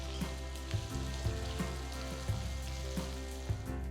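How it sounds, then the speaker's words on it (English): Chopped onions saute in hot sesame oil with mustard and fennel seeds, giving a steady close sizzle and fry with small pops and light stirring taps scattered throughout. "saute the onions for about 5 minutes so that they are no more raw"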